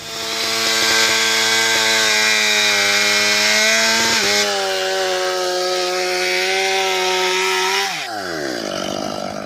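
A chainsaw bores into a tree trunk for a felling cut, running loud and close at a steady high pitch that dips as the bar loads in the wood, then eases off near the end.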